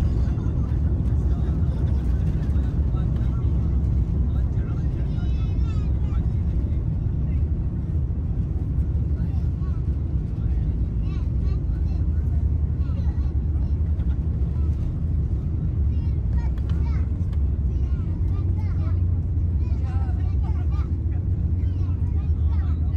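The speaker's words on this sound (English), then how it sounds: "Going to have a smooth landing right into Istanbul airport." Cabin noise aboard a Turkish Airlines Airbus A350 landing at Istanbul Airport, a loud continuous low roar and rumble from inside the economy cabin that holds steady throughout, with faint voices underneath.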